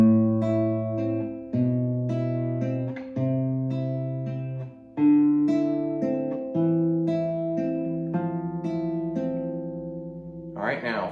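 Classical guitar plays the fourth line of Parkening's arrangement of Malagueña, a steady run of plucked notes with sustained bass tones ringing underneath, close and clear, with no talking.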